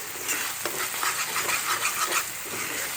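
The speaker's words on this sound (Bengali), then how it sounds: "পেঁয়াজটাকে ভালো করে ভেজে নেন" Onions frying for shrimp bhuna, a dense close sizzle of hot oil with soft stirring scrapes running through it steadily, no talk.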